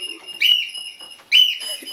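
A pet bird whistles indoors, giving two loud, clear, high whistles about a second apart, with quiet room noise between them.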